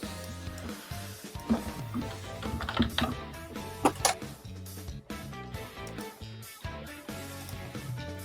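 Keys clatter on a computer keyboard in irregular bursts beneath a dense background of music and faint voices, with sharp clicks standing out at moments.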